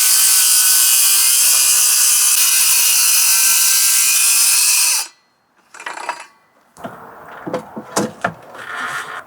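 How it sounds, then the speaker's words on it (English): A circular skill saw cuts a line through a Hardie fiber cement siding board. The blade runs loud and steady for about five seconds, then stops, followed by short bursts of scraping and handling noise. "Now we are going to use a skill saw, cut the line, sand the edge a little bit"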